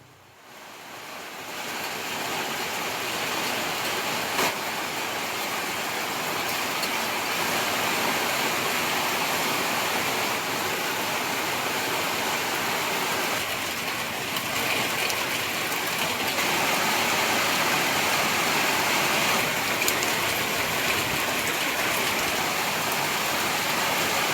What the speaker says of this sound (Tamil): இதன் காரணமாக சாலைகளில் வெள்ளம் பெருக்கெடுத்து ஓடியது.